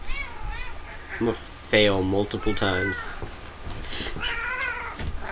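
A cat meowing repeatedly nearby, several drawn-out, wavering meows and yowls, loud and close, mixed with people talking and bursts of video game sound.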